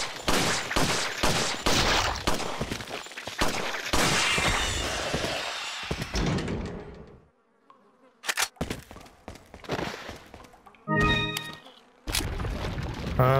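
Handgun shots fired in Resident Evil 4 (2005): a rapid string of sharp, loud cracks in the first half, then a quieter gap and a few more scattered shots, alone with no talk.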